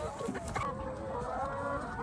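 Egg-laying hens cluck softly and intermittently close by, a low continuous murmur of fowl sounds with no talking.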